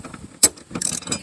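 Wrench working a 12 mm bolt on a 2010-2015 Toyota Prius rear seat belt anchor, giving a sharp metallic click and then a few short ratcheting bursts, close and fairly quiet, with no voices.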